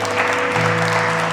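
Church congregation applauding during a sermon, a short burst of steady, loud clapping with sustained organ or keyboard tones held underneath.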